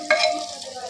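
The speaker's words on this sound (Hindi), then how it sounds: "अभी मैं फ्लेम थोड़ा लो करने जा रही हूँ और 30-40 सेकेंड्स तक मैं हल्का सा इनको फ्राई कर लेती हूँ ऑयल में।" Pulao ingredients frying in ghee and refined oil over a low flame give a brief, close sizzle with a stirring scrape at the start.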